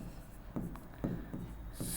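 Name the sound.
writing on a board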